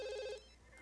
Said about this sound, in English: Oh, and she's talking to Kevin on the phone